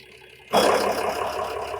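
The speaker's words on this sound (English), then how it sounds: "so I could just turn the engine off, because obviously I can't just leave it here idling forever" The diesel engine of a fire truck converted into a camper rumbles into a steady idle, starting abruptly and holding a loud, even drone nearby.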